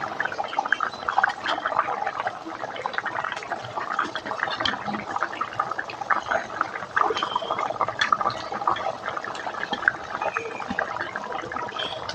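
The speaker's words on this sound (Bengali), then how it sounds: "12:30 বাজবে না, ঝোল ফুটে উঠেছে।" Rohu fish curry broth with taro, turmeric and salt bubbles at a boil in a pot, a continuous moderate gurgling and popping with no pauses.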